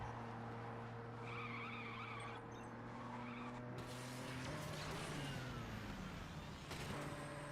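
Engines whine and tires skid as a car drifts around a corner in the Asphalt 9 racing game, a steady close roar with rising squeal and pitch sweeps over a faint music bed.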